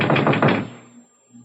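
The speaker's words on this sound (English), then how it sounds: "it sounded like somebody at the door" Several quick knocks rap on a door, loud and close, in a short burst that fades to near silence after about half a second.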